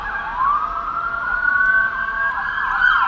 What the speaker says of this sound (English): Yep, police, they coming down this street too.